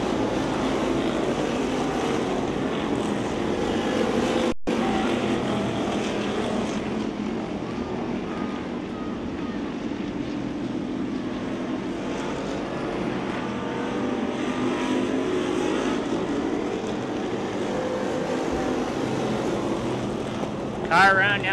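Race cars lapping a speedway oval, engines droning loud and continuous through the corners with a brief dropout early on, under a running wash of wind and commentary-like voices.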